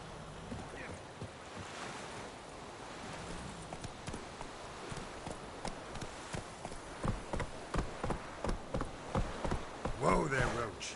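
Hooves of a horse in The Witcher 3 pound out a rhythmic gallop over wind and ambient noise. The hoofbeats grow louder and sharper toward the end.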